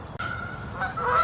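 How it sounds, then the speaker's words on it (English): Wild geese honking outdoors, a couple of loud nasal calls close by, the second ending in rising cries, with no talking. "Now you hear the geese there. The wild geese are out there today,"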